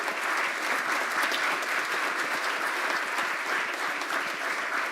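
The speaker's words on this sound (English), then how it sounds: "Let's give Hannibal a round of applause." An audience at a Rotary Club meeting gives a sustained round of applause, dense and even with many hands clapping and no voices standing out.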